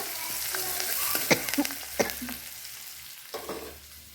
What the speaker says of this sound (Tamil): உப்பு போட்டு வணக்கலாங்க நல்லா கிளறி வச்சு வெங்காயம் நல்லா வணங்கிட்டு